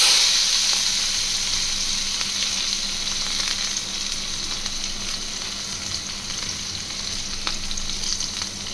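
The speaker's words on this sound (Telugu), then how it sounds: "మనం ముందుగా కట్ చేసి పెట్టుకున్న ఆనియన్స్ ఇవి కూడా వేసేస్తున్నాను." Chopped onions fry in hot oil with a bright, continuous sizzle that starts loud and gradually softens over several seconds, heard close up with no talking.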